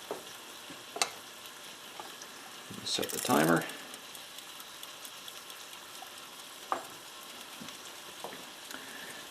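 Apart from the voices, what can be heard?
batter sizzling in a vintage Wagner waffle iron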